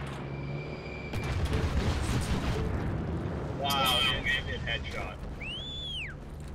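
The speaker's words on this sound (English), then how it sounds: "Getting bombed." Heavy bombing blasts in the video game Heroes and Generals rumble through a dense, sustained roar, with crackling debris and a rising whistle near the end, while players talk over the din.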